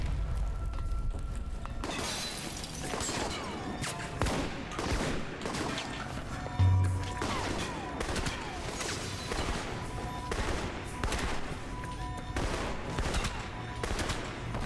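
Repeated shotgun blasts and rapid gunfire from the video game Alpha Protocol, loud and close, hammering steadily throughout with sharp reports layered over a dense combat din.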